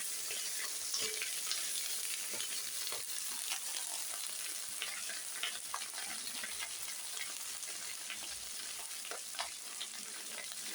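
Mixed vegetables, including eggplant, potato and pumpkin, fry in a pan with a dense, fairly quiet sizzle and scattered scrapes and taps of a spatula as they are stirred together.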